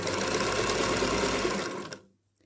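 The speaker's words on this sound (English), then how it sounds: "I like to make it also on a vintage sewing machine." A vintage Singer Featherweight sewing machine runs in a steady, dense whirring stitch for about two seconds, then stops abruptly into near silence, with no talking.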